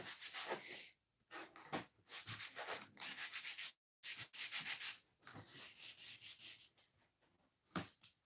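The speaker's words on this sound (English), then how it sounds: "Sandpaper fixes everything." Hand sanding of a wooden Christmas competition piece with sandpaper, a run of brisk rasping back-and-forth strokes, close and fairly loud, with a short pause partway through and no talk.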